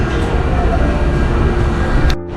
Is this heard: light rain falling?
no